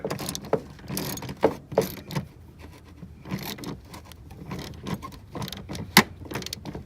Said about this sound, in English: we're using a 10mm socket to get this bolt loose